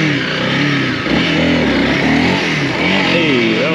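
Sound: Honda CRF300L motorcycle revving for a wheelie attempt

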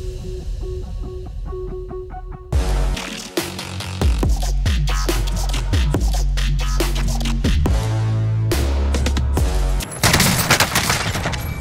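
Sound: AK rifle gunfire in video game Call of Duty Warzone

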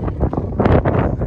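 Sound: strong wind in Istanbul

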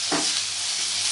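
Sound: sautéing potato and cauliflower with spices in a pan

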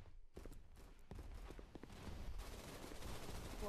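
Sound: gunshots in a VR video game on Oculus Quest 2

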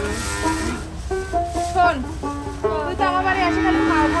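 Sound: cow mooing

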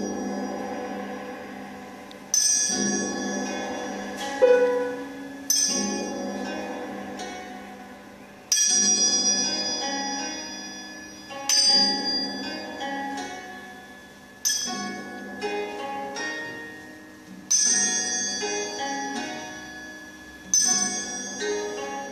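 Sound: gong struck

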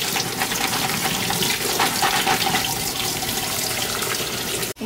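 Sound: tap water rinsing shrimp

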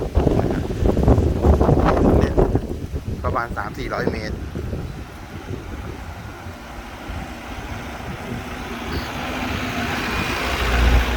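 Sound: strong wind blowing on a mountain trail

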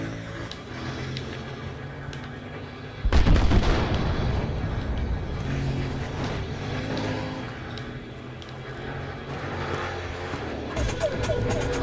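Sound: gunfire in video game Battlefield Hardline

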